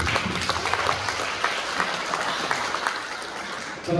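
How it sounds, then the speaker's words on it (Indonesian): Audience clapping at a school's start-of-year staff meeting, a dense steady wash of applause close and fairly loud, tapering near the end. "Kita tepuk tangan."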